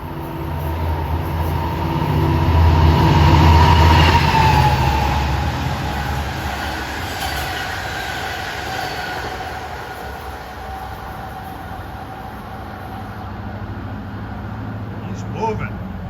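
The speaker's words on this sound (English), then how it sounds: "545 approaching east fast is train 662. Long Island City to Port Jefferson." LIRR diesel train 662, Long Island City to Port Jefferson, passing eastbound fast through Westbury on triple track at evening rush hour: a broad rumble swells near the start, then a steady rolling roar carries on, with a voice speaking over it.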